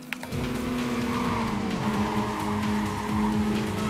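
A Mazda RX-7 races in Need for Speed: Carbon, its engine droning loudly and continuously with shifting pitch while tires squeal and skid underneath.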